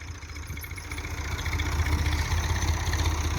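A Massey Ferguson MF 240 tractor engine idles nearby, a steady low rumble that swells slightly louder partway through, with no voices.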